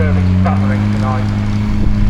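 A pulling tractor's engine at a tractor pull at Laughton drones loud and steady as it passes, a deep constant hum throughout, with voices talking over it.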